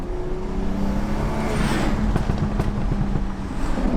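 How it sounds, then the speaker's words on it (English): BMW 340i with an MHD tune, its exhaust giving a low rumbling drone with crackling burbles and a few sharp pops on the overrun, heard close from inside the car. "Those little burbles and stuff are pretty nasty Sounds too."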